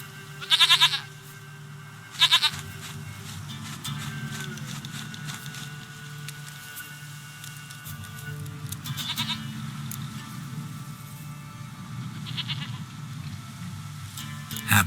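A goat in The Witcher 3 bleats twice, short and loud, over a quiet game backdrop of ambient hum and a soft musical drone, with fainter shuffling and patter afterward.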